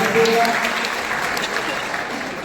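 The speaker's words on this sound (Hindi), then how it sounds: "जोरदार तालियों से स्वागत करें।" Loud, steady applause from a school audience welcoming a student called up at an annual exam results ceremony, dense clapping filling the whole stretch without a break.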